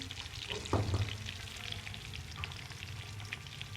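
Melon seeds fry in a pan with a steady, close sizzle, broken by a few scraping stirs near the start.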